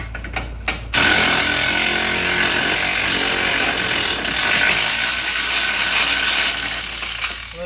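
Husky power tool, likely an impact or ratchet, working a suspension bolt on a 2016 Buick Encore lower control arm, a loud continuous mechanical grinding rattle close by lasting several seconds.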